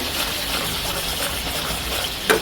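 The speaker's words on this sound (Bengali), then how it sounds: "এটা ভালোভাবে কষাবো এটাকে ভালোভাবে কষাই নেবো এটা আপনার কষায় রান্না করব এগুলো তো কষানো হচ্ছে" Green chillies and spices being sautéed and stirred in a pan for a river kechki fish bhuna, a continuous bright sizzle with soft scraping, fairly close and steady throughout.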